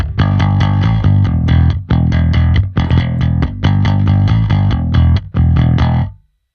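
Picked bass guitar plays a punchy, rhythmic riff in several phrases, with a slightly scooped, warm tone from mid-cut EQ on an Empress unit, ending cleanly after a few bars.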